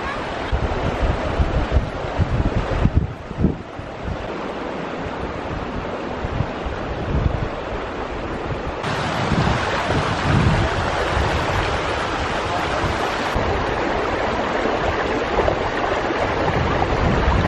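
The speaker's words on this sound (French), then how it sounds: "ça fait une cascade continue en fait" Water cascades steadily down the natural hot spring terraces of Pamukkale in Turkey. A constant rushing wash is mixed with strong wind buffeting on the microphone throughout.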